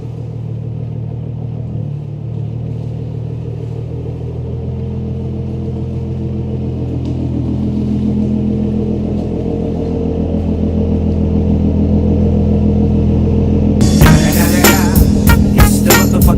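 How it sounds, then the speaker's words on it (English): A 2005-14 Ford Mustang with an exhaust rattle rolls into a garage, its engine rumbling steadily and swelling a little, then ending in a burst of sharp clattering near the end. "So let's pull the car in and get to work."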